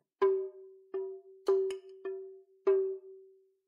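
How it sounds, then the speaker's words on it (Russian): A small drum is tapped six times at an uneven pace, each light hit ringing with a short pitched tone that fades in silence. "Попробуем воздействовать на барабан не сильно"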